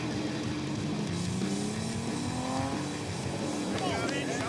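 A 2005 Subaru and a Camaro race side by side, with engines roaring steadily and a rising pitch as they accelerate, a screech near the end, and a loud commentator talking over them throughout.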